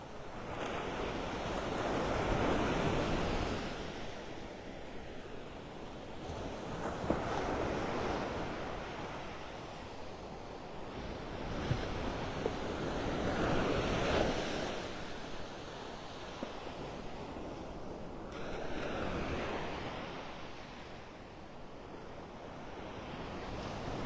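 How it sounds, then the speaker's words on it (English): Ocean waves roll in and break along a beach shore in North Naples, Florida, in slow repeating swells with steady wind noise across the microphone and no voices. "Every now and then we get some nice waves crashing along the shore."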